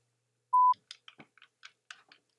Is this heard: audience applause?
no